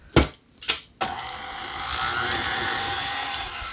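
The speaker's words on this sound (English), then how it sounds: "I'm just going to turn the mixer on and we're going to blend this all together" Electric mixer whirring steadily while blending orange cranberry honey butter with orange zest, starting after a couple of sharp clunks and running as a continuous close, even hum.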